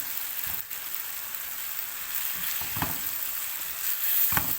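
Alexandrian-style liver sautés in a hot pan with a steady close sizzle, punctuated by a few louder bursts of crackling as it is stirred, and no speech.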